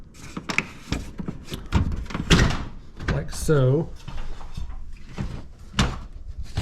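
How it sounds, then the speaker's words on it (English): A plastic front panel is pulled off a Senville Leto mini split indoor unit, giving a few short clicks and knocks with a brief scraping creak mid-way, mixed in with someone talking nearby. "So you actually pull the door off this thing"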